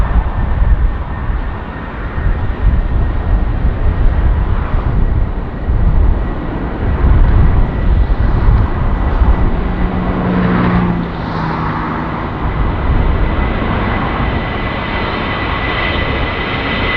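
An airliner takes off from runway 24 left at Los Angeles International Airport, a loud, continuous engine roar with deep rumble that swells and holds steadily throughout, heard from nearby.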